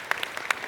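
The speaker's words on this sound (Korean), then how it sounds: "큰 박수로 맞이해 주시기 바랍니다" Audience applause greeting a former minister as he walks on stage at an entrepreneurship concert, a brief burst of scattered claps, close and fairly loud.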